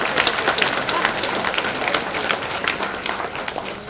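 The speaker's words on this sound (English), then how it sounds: "Let's give them a round of applause," Sustained applause from a gala audience honoring alumni of the University of Guyana at a chapter launch event, dense steady clapping filling the room at a fairly loud level throughout with no break.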